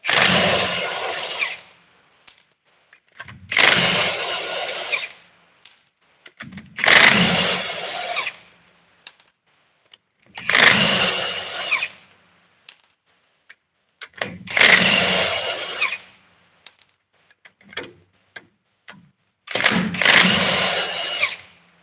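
Power tool spinning a socket on a vehicle during a wheel seal and driveshaft pinion seal job, six loud close bursts of whirring, each about two seconds long, separated by short pauses with faint clicks.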